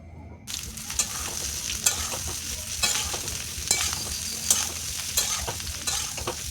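Whole spices dry-frying in a pan before grinding, a steady close sizzle broken by repeated scraping stir strokes every second or so, with no voices.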